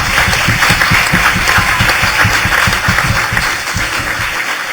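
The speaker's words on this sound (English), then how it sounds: "I wanted to give her a round of applause for her work in that" An audience at a talk applauds warmly for a professor, a dense, continuous patter of clapping at close range that holds steady and eases slightly toward the end.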